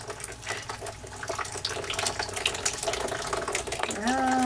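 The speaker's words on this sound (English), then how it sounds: "we're going to pour this in a Widdershins direction." Liquid potion poured in a steady, splashy stream that runs continuously at close range, with a rising tonal gurgle as the vessel fills near the end.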